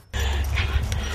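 A dog, recovering after stem cell therapy for pain, panting hard and whimpering close by in a short, steady, breathy burst.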